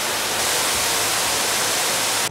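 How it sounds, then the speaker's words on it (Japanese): Shower head in mist mode spraying a fine, steady hiss of water, an even broadband rush that stays constant and close throughout without any talk. "最後が ミストミストすごいですね"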